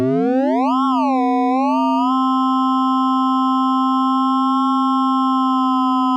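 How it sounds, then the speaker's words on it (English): A pure sine tone from a BITE synthesizer, loud and close, sweeps up in pitch, wavers, then holds a steady modulated tone to the end, with no voices. "It's modulating the amplitude of the sine wave."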